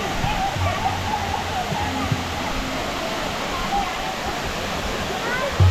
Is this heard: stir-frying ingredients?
no